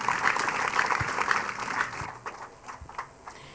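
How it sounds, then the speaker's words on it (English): A church congregation at a testimony service claps their hands together in praise, a moderate, uneven patter of many hands that thins out toward the end. "Put your hands together for the miracle working God."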